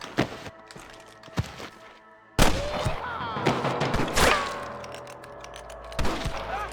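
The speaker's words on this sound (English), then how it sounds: "I can hear more gunshots." Gunfire in the Western video game Red Dead Redemption: sharp shots crack out sporadically, then a loud volley erupts and rattles on with scattered follow-up shots, close and prominent with no talk.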